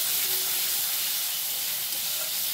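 Water mixed with chilli, turmeric and cumin powders hitting hot oil in a pan, a continuous loud hissing sizzle that holds steady throughout, no voices.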